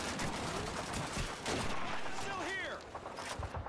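MP44 rifle fire in Call of Duty 2 during a battle against surrounding enemies. Rapid bursts of shots run throughout, mixed with other battlefield noise and whooshing effects.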